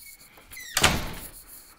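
A door swings open or shut with a short rising squeak, then a loud thudding knock and a rattling tail that fades over about a second in an otherwise quiet room.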